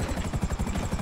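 A helicopter in GTA Online making an emergency landing, its rotor thumping in a fast, steady beat over a deep engine drone, loud and close throughout.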